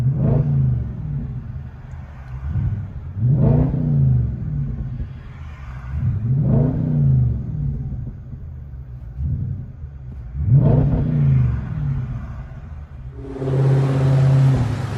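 A 2010 Audi S5 with a 4.2L V8, dual exhaust and muffler delete revs repeatedly, giving several deep, loud rising and falling blips at a steady idle rumble, heard from nearby.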